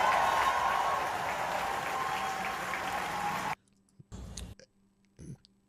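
Raucous crowd at a political rally bursting into loud, sustained applause and cheering for about three and a half seconds before cutting off abruptly, followed by a few brief, scattered noises.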